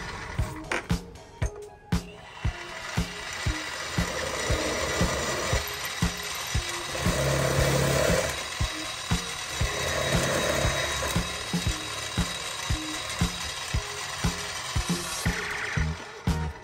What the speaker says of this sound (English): we'll throw it in the mill and start drilling these things